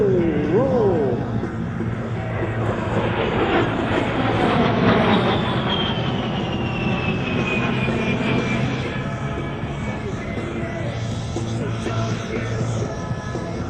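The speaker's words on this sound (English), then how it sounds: "Major Bergen is now repositioning the A-10 right past down the runway." An A-10 jet aircraft repositions down the runway at an airshow, a loud sustained roar with a slowly falling whine, close and continuous, with an announcer's voice faintly under it.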